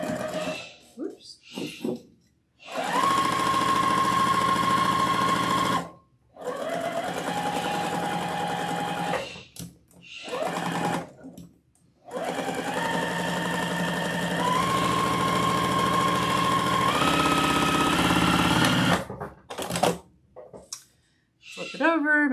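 A sewing machine stitches fairy doll arms in Kona cotton fabric, running in several sustained bursts of a few seconds each with short pauses between, loud and close.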